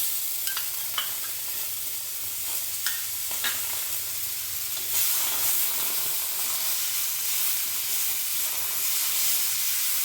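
A spice mixture with yogurt sautéing in a pan for spicy chilli curry, a strong broad sizzle with occasional utensil taps early on and a louder hiss swelling in the second half, close by.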